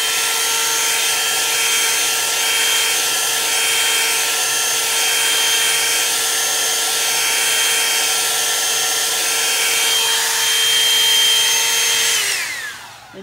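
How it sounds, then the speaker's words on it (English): A handheld blow dryer runs steadily close by, drying fresh paint on a pumpkin painting. The whine holds a constant tone with no speech over it and then winds down as it is switched off near the end. "I'm gonna hit it with a blow dryer."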